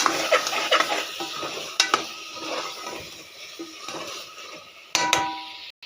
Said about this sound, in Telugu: బాగా కలిపేసుకున్నాం కదా, అలాగే 2 నిమిషాలు మూత పెట్టి మధ్యలో కలుపుతున్నానండి